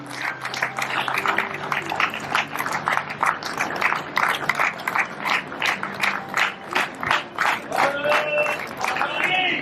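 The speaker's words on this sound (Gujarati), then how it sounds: "તાળીઓના ગડગડાટથી આપણે આ ઘટનાના સાક્ષી બનીએ." At a community ceremony honouring a young woman presented with a flag, air ticket and running kit, the audience claps in a steady rhythmic beat, with brief tonal sounds over it.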